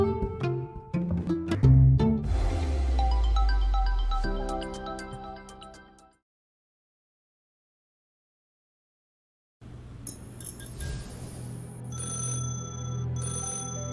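An old telephone rings with bright repeated bell tones, loud at first and then cut to silence, followed by further ringing and electronic tones after the gap.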